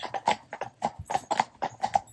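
Horse hooves clip-clopping on a trail toward water, a close, uneven string of sharp hoofbeats with a walking rhythm, alone without talk.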